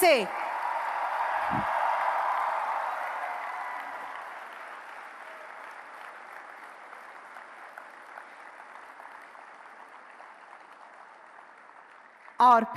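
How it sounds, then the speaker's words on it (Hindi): Audience applauding the Prime Minister at the Semicon India 2023 inauguration at Mahatma Mandir, Gandhinagar: a loud sustained wash of clapping that slowly fades over about ten seconds, with a brief voice near the end. "आइए प्रधानमंत्री जी की मानक उपस्थिति और मार्गदर्शन के लिए बहुत बहुत तालियों के साथ उनका धन्यवाद करें।"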